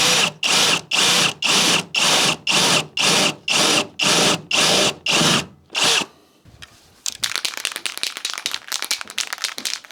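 A power drill bores a hole through a Saab 900 body panel in about ten loud, evenly spaced bursts, each roughly half a second long. Softer scraping and clattering of metal follows.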